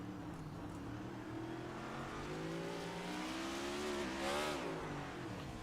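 Race car engine revving hard on a road course in a racing video game, a steady buzzing drone with rising and falling pitch sweeps and a brief surge near the end, faint and alone.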